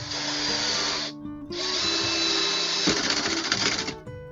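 A cordless drill set low on its clutch (setting 2) drives screws while a mirrored medicine cabinet is mounted in a bathroom. Two close, loud whirring runs are split by a short pause, the second ending in uneven ratcheting.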